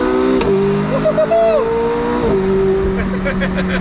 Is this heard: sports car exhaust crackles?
yes